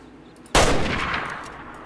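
A single loud rifle shot from a 30-06 hunting rifle in the Way of the Hunter game, set in Scandinavia: one sharp crack followed by a long rolling echo that fades out.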